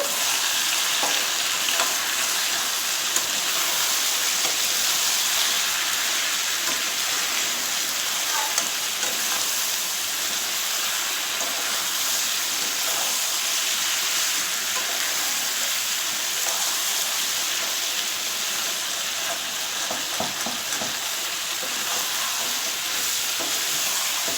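Duck meat sizzles steadily in a hot pan with salt and turmeric, a dense, loud frying hiss broken by faint stirring scrapes throughout.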